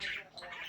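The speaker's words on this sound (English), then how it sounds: "Excuse my birds before like we get this video started." Pet birds giving a short, fairly faint burst of squawks and chirps indoors, briefly and alone.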